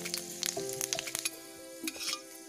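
Panch phoron, a whole-spice mix, sizzles and crackles in hot oil in a kerahi as fish curry with skunk vine is started, a steady close frying hiss with scattered sharp pops and a few stirring clicks, no talk.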